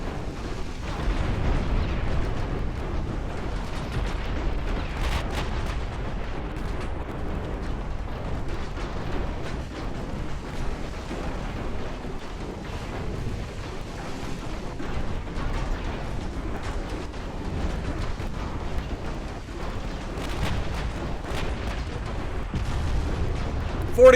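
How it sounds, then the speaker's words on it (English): A battleship's guns fire a salvo in Ultimate Admiral Dreadnoughts, heard as a dense, continuous rumble of booming blasts and explosions that holds at a steady loudness throughout. "That was a good salvo."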